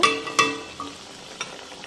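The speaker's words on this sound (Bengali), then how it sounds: "ময়দাটাও আমাদের থাকে বাদামি বাদামি কালার করে আমরা সুন্দর করে ভেজে ভেজে নিব" Onion, chili and flour frying together until brown, a soft sizzle with a few separate scraping strokes of a spatula in the pan.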